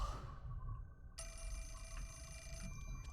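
A telephone rings with a steady electronic trill in the horror game Fatal Frame: Mask of the Lunar Eclipse. It starts a second in, sounds close and clear, and continues over a low, murky ambient hum.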